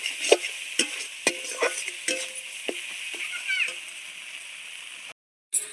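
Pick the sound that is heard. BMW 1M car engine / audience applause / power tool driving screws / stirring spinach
stirring spinach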